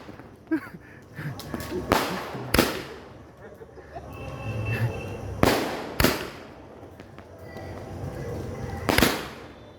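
Diwali firecrackers bursting outdoors in Bankura, West Bengal, a handful of loud, sharp bangs spaced a couple of seconds apart, some near and some farther off, over low background noise.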